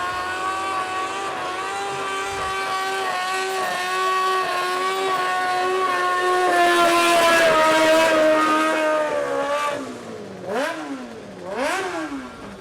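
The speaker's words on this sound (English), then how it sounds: "that sounds like that was a snowmobile engine in that one" A snowmobile-engined garden tractor at a tractor pull screams at high revs through a long sustained run, its whine climbing and wavering, then dropping off into a few sharp rev swoops near the end, loud and close.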